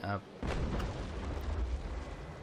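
Ship cannons fire in the age-of-sail naval combat game Naval Action: a deep booming shot followed by a low rolling rumble that lingers, with a brief bit of talk at the very start.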